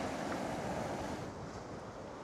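Lively sea waves and gusting wind at a harbour on the Irish coast, a loud, steady wash of surf with wind buffeting the microphone.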